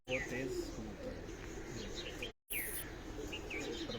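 Pigeons cooing on a rooftop loft in Lahore, soft repeated coos and a few chirps fairly near, with a steady murmur of background noise and a brief dropout partway through.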